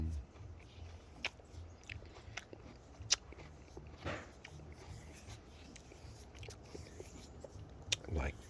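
A crunchy, juicy fruit (apple) is bitten and chewed close up: scattered sharp crisp bites and soft wet munching in a quiet room, with faint breathing between.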